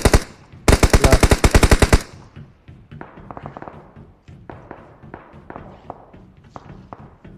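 Rapid automatic gunfire from PUBG Mobile rattles loudly in a dense burst, followed by scattered lighter taps and footsteps, with a brief voice.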